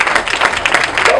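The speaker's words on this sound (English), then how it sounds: "You all need to get bigger rounds of applause than that." Audience applause at an award ceremony and dinner, a dense crowd clapping steadily throughout the brief moment, loud and close.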